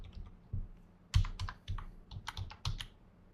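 Close, crisp keystrokes on a computer keyboard come in irregular clusters of taps, with a few heavier presses standing out and no talking.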